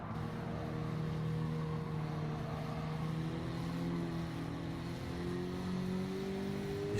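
A race car engine in Gran Turismo 7 droning steadily, with rising and falling harmonic tones as it revs and shifts, continuous and moderately loud with no talk.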